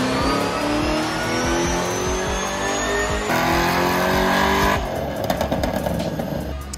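A Z28 race car revs hard during dyno tuning, a loud, sustained engine roar that climbs and holds, with rougher, stuttering revving near the end.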